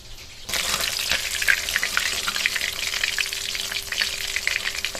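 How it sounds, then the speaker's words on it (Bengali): Fish pieces drop into hot oil in a pan and burst into a loud, close sizzle that holds steady and bright, crackling continuously after the sudden onset. "বাকি মাছগুলো একইভাবে দিয়ে ভেজে নেব"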